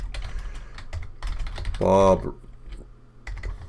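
Rapid typing on a computer keyboard while writing a story in OneNote, close and clear, with bursts of key clicks and a short pause in between.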